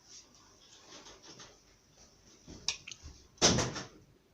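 A door opens in a home kitchen, heard as faint rattles and clicks followed by a louder latch thump near the end, against a quiet background.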